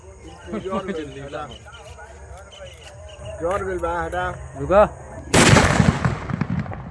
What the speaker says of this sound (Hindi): धमाका देख रहे हैं, कितना हार्ड हुआ है धमाका